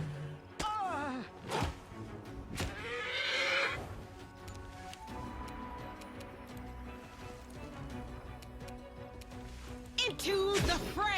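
Horse whinnying in the video game Pathfinder: Wrath of the Righteous, several sharp neighs amid clip-clopping hooves and battle clatter, close and loud in a busy game mix.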